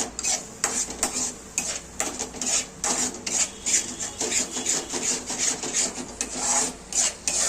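A utensil stirring yogurt into an egg omelette curry in a pan, repeated rhythmic scraping and rubbing strokes against the pan surface, steady and close with no voices.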